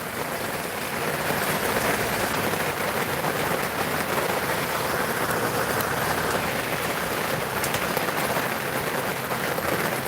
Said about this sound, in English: Oh yeah, she's raining.